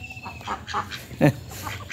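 Ducks quack in a few short, scattered bursts close by, with one louder quack near the middle over a quiet outdoor background.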